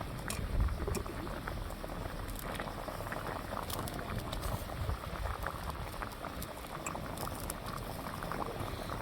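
Gravy with drumsticks and potatoes simmering in a pot for a rohu fish curry: a constant, soft bubbling boil with small pops, close up, with no talk.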